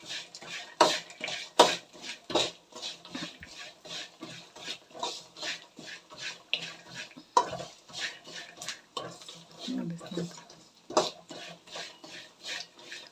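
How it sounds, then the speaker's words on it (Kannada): Chickpeas dry-roasting until crisp in a pan, stirred with a utensil in steady rhythmic scrapes and light clatters, close and clear, with no talking. "ಕಡಲೆ ಎಲ್ಲ ಚೆನ್ನಾಗಿ ಕ್ರಿಸ್ಪಿ ಆಗಿರಬೇಕು ಆ ರೀತಿ ನೀವು ಹುರ್ಕೊಬೇಕು"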